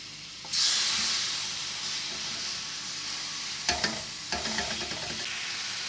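Chicken dropped into hot oil in a pan bursts into a loud, steady sizzle, followed by spatula scrapes and clatter under the continuous frying hiss.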